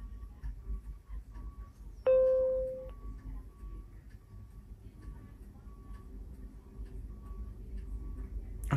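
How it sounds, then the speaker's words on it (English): A Victor Reader Stream 3 audio player sounds a single clear electronic startup ding during a firmware update; the tone rings out sharply, then decays over about a second against a quiet, low background hum. "Okay, we got a ding."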